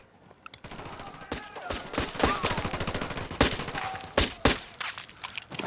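Gunfire in the video game Ghost Recon Wildlands: a loud, busy fusillade of sharp shots, some in quick bursts, spread across the whole stretch with game ambience and brief voice fragments between.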